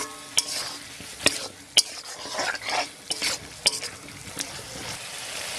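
Cut potatoes being stirred in a sizzling pan for a bhola fish curry; a utensil strikes and scrapes the pan in a series of sharp clacks over a continuous frying hiss.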